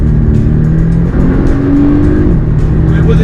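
Porsche 718 Boxster S working through tight curves, its engine droning loudly and steadily with shifting pitch as it revs between bends, close and continuous with no voices.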